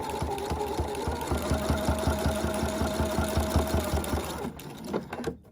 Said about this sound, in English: I'm going to sew up, and then at the corner, I'm actually going to stop sewing right on that edge